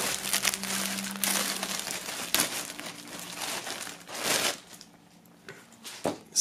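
A boxed shirt being unwrapped from its plastic packaging: repeated close crinkling and crumpling bursts of plastic film, loud and busy at first, thinning out toward the end, with no talking.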